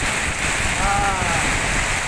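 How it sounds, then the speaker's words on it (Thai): Heavy rain pours down in Phitsanulok province, a dense, steady wash of broadband hiss that fills the whole clip at close range, with a brief faint tonal sound in the middle. "ฝนตกเลยครับฝนตกแล้ว"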